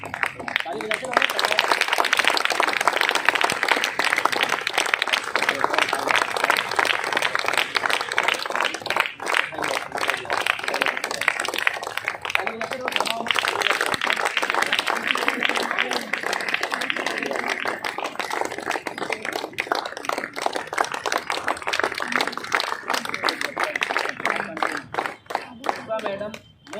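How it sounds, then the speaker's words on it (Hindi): A roomful of people at an AWPL celebration in India keeps up sustained, rhythmic clapping for nearly half a minute, loud and close, while voices talk and call out over the beat. "ताली बजाते रहो।"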